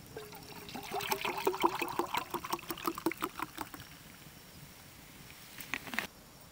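Tonic water is poured into a gin drink at a bush campsite during a canoe trip, a steady close trickle and fizzy patter lasting a few seconds before fading to quiet outdoor ambience.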